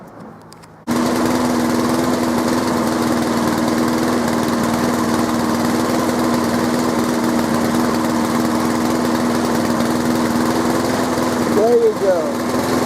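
A chainsaw engine catches after a brief quiet moment and then runs loud and close with a steady, buzzing drone. The pitch wavers slightly near the end.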